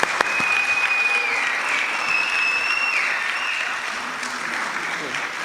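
Sustained audience applause fills an auditorium at an arts event, steady and loud throughout without letup, with a high tone running through part of it.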